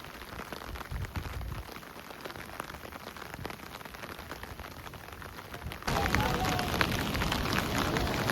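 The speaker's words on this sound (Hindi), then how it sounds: "बारिश जो छाते पे गिर रहा है," Rain patters steadily on an umbrella close by in Meghalaya, growing louder and brighter partway through as the drumming intensifies.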